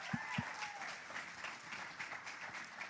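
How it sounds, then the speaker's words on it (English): A fireside chat audience claps for Jamie Dolan, a soft, steady patter of many hands heard faintly at a distance, with a couple of low thumps near the start. "a big round of applause for Jamie Dolan"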